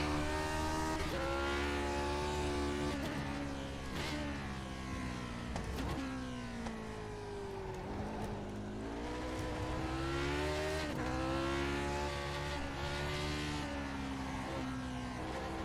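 Race car in iRacing lapping Laguna Seca, Grand Prix Legends style, engine revving up and down through gears with rising and falling harmonic whine, continuous and fairly quiet, no talking.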